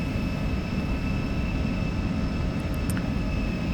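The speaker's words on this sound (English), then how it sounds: "a maximum performance takeoff for you" An Embraer E-Jet accelerating in a maximum performance takeoff fills the cabin with a dense, constant engine roar and rumble, with a steady high whine running through it and no voices.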